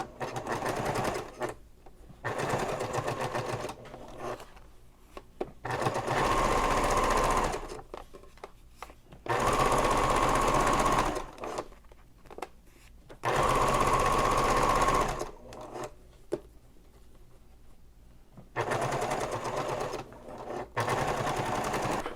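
A sewing machine top-stitches a seam on a messenger bag in several separate runs of fast, steady stitching, each lasting a few seconds, with quiet pauses between them.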